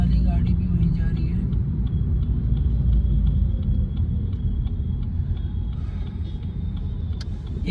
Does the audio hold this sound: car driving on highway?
yes